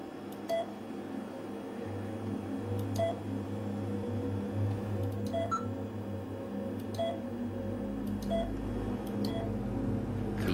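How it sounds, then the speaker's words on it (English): A tree-ring measuring machine giving regular short electronic beeps, roughly one a second, each marking a ring on a wood core sample, over a steady background hum. "Each of those beeps is the measurement of a ring."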